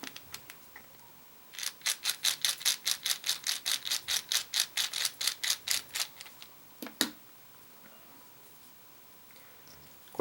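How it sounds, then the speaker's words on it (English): A screwdriver works Phillips-head screws out of a baitcaster fishing reel, producing a quick run of about twenty sharp, evenly spaced ratcheting clicks up close, then a couple of isolated clicks amid quiet. "Just going to take these screws out. These are Phillips heads."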